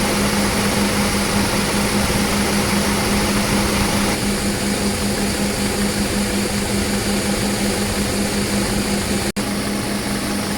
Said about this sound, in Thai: พัดลมทำงานทั้งสองตัวนะครับ